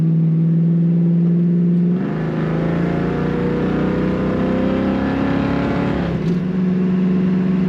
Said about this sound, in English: I like the exhaust note. It's pretty raspy, in my opinion.